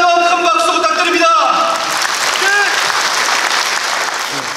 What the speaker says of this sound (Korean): 윤유천 지회장 동지께 다시 한번 큰 박수 부탁드립니다